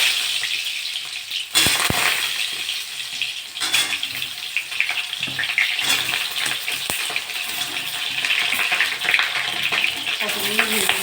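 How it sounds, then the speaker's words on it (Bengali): Pointed gourd pieces sizzle in hot mustard oil in a pan, a loud continuous frying hiss with bursts of crackle and stirring clatter, no talk over it. "তেলটা গরম হয়ে গেছে, পটলগুলো দিয়ে দেবো।"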